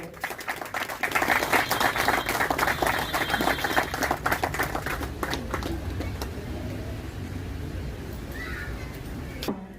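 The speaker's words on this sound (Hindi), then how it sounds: "जोरदार तालियां हो जाए।" Dense, sustained applause from a crowd at a Kargil Victory Day ceremony, loud and continuous for several seconds before gradually thinning out.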